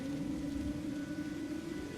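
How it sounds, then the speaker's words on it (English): Rain sets in within the video game Morroblivion, a soft steady patter over a low ambient drone, faint and continuous with no voices. "it's starting to rain"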